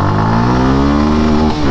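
Suzuki Gixxer SF FI 2023 motorcycle engine revving hard as it accelerates, a loud, close, continuous drone rising steadily in pitch with a brief dip near the end, alone with no talk.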